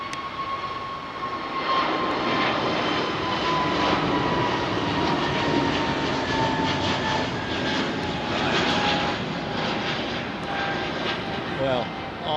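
Aircraft touching down at London Heathrow Airport, a loud, sustained jet roar with a broad rushing wash heard from nearby, voices faintly over it.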